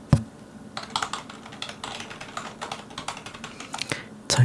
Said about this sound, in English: Typing again, hoping to fix the database issue.